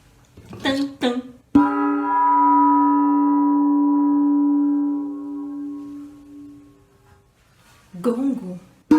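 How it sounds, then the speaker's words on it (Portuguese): A tam-tam is struck once and rings with a sustained, shimmering metallic tone for several seconds before fading, with brief voices just before and after. "tam-tam"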